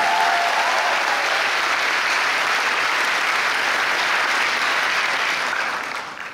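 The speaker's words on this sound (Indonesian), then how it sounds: "kita berikan aplaus, terima kasih untuk pelayanannya." A closing-ceremony audience at the KNM 2025 national camp applauds the organizing committee: steady, dense clapping from many hands that holds for several seconds and then begins to fade at the end.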